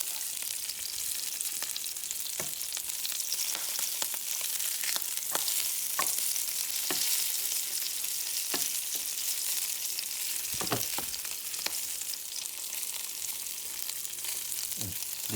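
Duck leg confit frying in a pan at medium heat, giving a continuous fine sizzle and crackle with occasional sharper pops. Steady, close and fairly quiet, with no voices.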